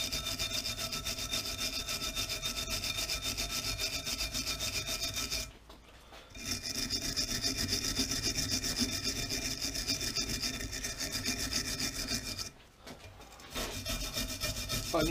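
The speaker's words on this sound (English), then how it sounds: "Now, good wire brushing with a stainless wire brush." A stainless steel wire brush scrubs hard across a weld on an aluminium BSA Gold Star crankcase, a loud steady raspy scratching broken by two brief pauses.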